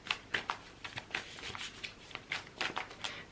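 Oracle cards are shuffled by hand, a quick series of crisp riffling bursts and soft slaps in an irregular rhythm, close and fairly quiet, with no talking.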